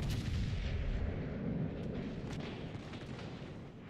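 Warship guns firing in World of Warships Legends, a dense, sustained roar of heavy gunfire and rumbling blasts that stays loud throughout, with faint crackling peaks on top.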